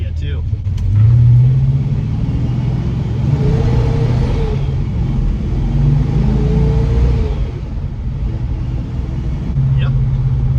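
A rebuilt 1961 Studebaker Hawk with an upgraded front end drives along, its engine giving a loud, steady low rumble that swells a little as it pulls, with road noise underneath.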